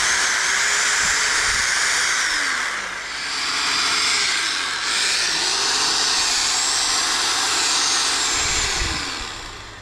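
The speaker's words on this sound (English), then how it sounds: "Quite a big drill, 900 watts, and it says it'll run that for about an hour." A 900-watt corded power drill runs continuously at high speed, a loud, close, steady whirring drone with slight dips in pitch as the load changes, powered from a portable power station.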